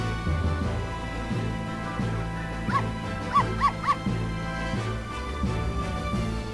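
A dog from the video game Professor Layton vs Phoenix Wright gives a few short yips and barks over steady background music, clustered near the middle.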